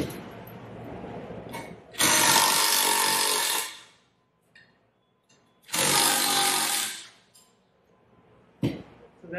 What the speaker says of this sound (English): we'll have to replace these 1/4-inch Allen bolts